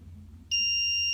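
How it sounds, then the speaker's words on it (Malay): An attendance system buzzer cuts in sharply after a quiet low hum, a loud steady electronic tone that holds unbroken to the end, with no talking. "buzzer akan berbunyi selama 4 saat"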